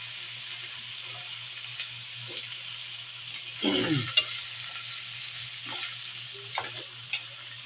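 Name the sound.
shrimp being stirred and frying in a pan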